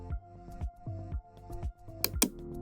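Someone types a Wi-Fi network name on a keyboard while setting up a Xiaomi Mi WiFi R2D router. The key clicks are quiet and irregular, with a couple of sharper taps near the end.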